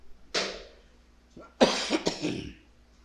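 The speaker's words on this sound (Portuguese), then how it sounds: "parece que esta inimiga tosse está querendo voltar de novo" A few harsh coughs sound close by, one single cough followed by a quick double cough, with no talking around them.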